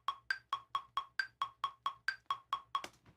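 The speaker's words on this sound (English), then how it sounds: "So that high beep is the 1, and every beep after that is a subdivision." Ableton Live metronome click track: a steady train of about fourteen short electronic beeps, evenly spaced and clear, with a higher accented beep marking the downbeat before softer subdivision beeps, alone with no talk.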